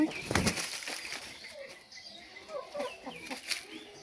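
Chickens flap their wings in a quick burst near the start, followed by scattered clucks and light rustling outdoors, no one talking.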